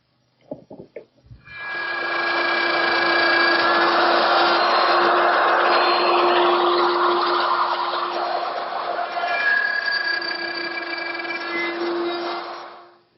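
A router guided by a dovetail jig cuts tails in a wooden toy chest panel: after a few clicks it spins up to a loud, steady whine with a droning tone, holds for about ten seconds, then winds down.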